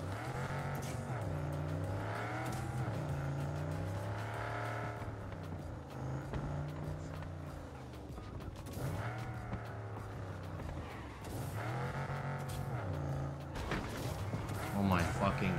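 A car in Cyberpunk 2077 revs loudly and spins out, its engine pitch rising and falling repeatedly, with tire squeal as it loses grip and someone talking over the noise.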